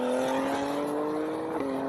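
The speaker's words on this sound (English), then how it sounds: "The BMW launches hard." A tuned BMW M3 launches in a drag race against a Lucid, its engine note a steady loud, rising drone heard from close by with no talking over it.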